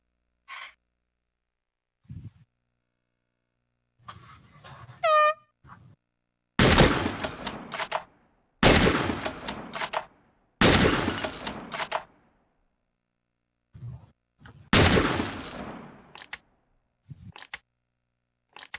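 Bursts of rapid gunfire from a video game weapon, several loud close volleys separated by quiet gaps, with faint clicks and small sounds between the shots.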